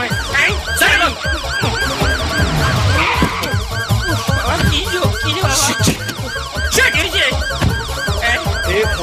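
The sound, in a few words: police car siren in film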